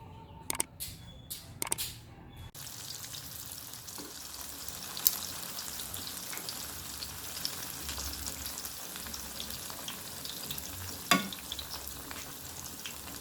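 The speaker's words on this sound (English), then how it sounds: "Let's fry these ones now." Plantains fry in a pan with a steady, close sizzle and crackle of hot oil, after a few sharp clatters at the start and occasional pops.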